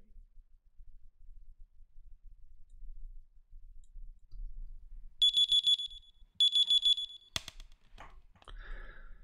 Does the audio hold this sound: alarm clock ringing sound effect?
yes